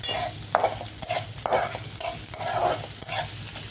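Onion and capsicum stir-fried in a pan, with a steady sizzle beneath repeated rhythmic scrapes of a spatula against the pan, close and fairly loud, with no voices.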